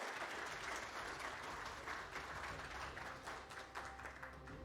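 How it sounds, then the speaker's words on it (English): Warm applause from a conference hall audience welcoming speakers from Ukraine, a steady wash of many hands clapping together, fairly distant and continuous with no voices. "with a bigger round of applause, let's give a warm welcome once again for Ukraine"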